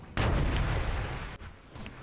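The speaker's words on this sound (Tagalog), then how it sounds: "Sumabog." A heavy explosion in a Dota 2 esports match starts with a sudden loud boom, then a deep rumbling decay that fades over about a second, with no talking over it.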